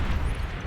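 A Fat Boy artillery shell explodes in the strategy game Beyond All Reason, a brief, dense, rumbling boom that fills the short moment loudly with no voices.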